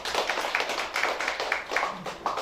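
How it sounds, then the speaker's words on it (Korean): A gathered audience at a church-related assembly claps briefly, a short burst of hand claps in a reverberant room with a faint voice underneath. "박수."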